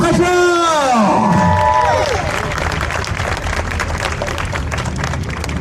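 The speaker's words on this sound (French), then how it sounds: "Allez, on l'applaudit très fort." A crowd at a motorcycle stunt demonstration claps and cheers loudly for the rider, with whoops and whistles rising early, then sustained dense applause.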